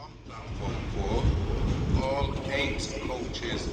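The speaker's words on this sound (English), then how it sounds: "This Northern 150 departs Manchester Piccadilly now with the 1510 Northern service to Chester via Altrincham" A Northern Class 150 diesel unit pulls out of Manchester Piccadilly, a steady rumble of engine and wheels on rail with faint clicks, carrying on throughout while station noise and speech-like sounds sit in the background.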